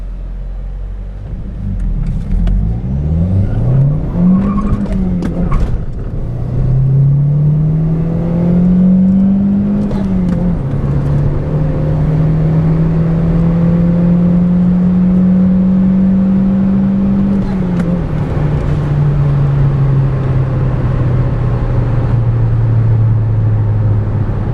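A turbocharged Chevrolet Cobalt SS accelerates hard through several gears, its loud engine note climbing in pitch and dropping at each shift over a constant road rumble, with no talk.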